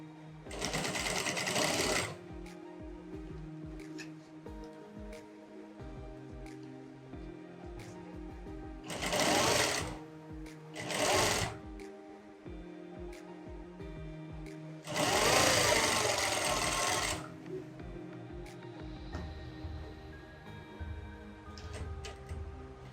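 Sewing machine stitching a girl's skirt and shirt set, running in several bursts of rapid whirring stitches separated by quiet pauses, close and fairly loud.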